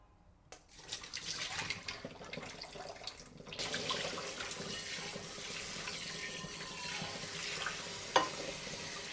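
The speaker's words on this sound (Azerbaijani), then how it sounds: "Kinovanı əvvəlcə yaxşıca yuuruq." Quinoa being rinsed under a running kitchen tap, a steady close stream of water splashing into a sink with occasional louder clatters of grains and bowl.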